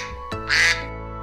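A single short, nasal cartoon duck quack sounds clearly and close, preceded by a brief soft tap, with no speech.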